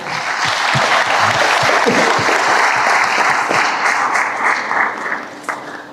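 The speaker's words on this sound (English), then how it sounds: "So let's give them a huge round of applause because they wake up committed" A graduation ceremony audience breaks into loud, dense applause, individual claps audible within the sustained wash, fading somewhat in the final second.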